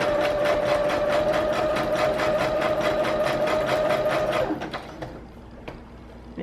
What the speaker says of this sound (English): I do want to add a little bit of sewing actually, so let's do that. Okay, so I'm just gonna do a little zigzag stitch